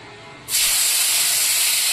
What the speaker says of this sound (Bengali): তেল গরম হয়ে গেছে, এবার আমি মাশরুমটা দিয়ে দিচ্ছি।